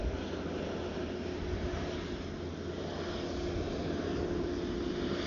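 Airbus A330neo airliner at Ponta Delgada airport, a steady loud engine roar with a constant hum that continues unbroken throughout.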